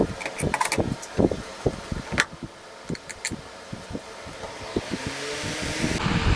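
Repaired desk fan switched on after being plugged in, once hard to start and humming: clicks and knocks at first, then a steady whirring airflow rises toward the end, close and moderate in level.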